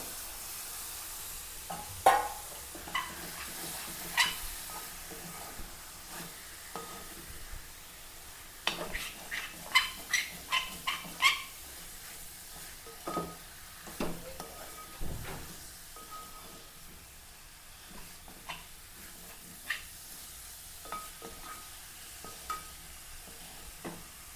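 Marinated chicken tipped into hot masala in a pan, sizzling and frying with bursts of stirring and scraping clatter, steady hiss underneath, no voices.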